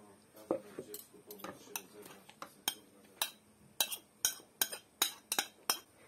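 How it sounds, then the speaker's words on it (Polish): A utensil stirs potato pancake batter in a bowl, with repeated clinks and scrapes against the bowl growing sharper and more regular toward the end, and a little talk in the background. "całość mieszamy"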